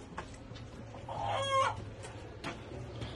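An Armenian-breed chicken calls close by with a short, loud, drawn-out squawk or crow in the middle, surrounded by softer clucks and faint farmyard background.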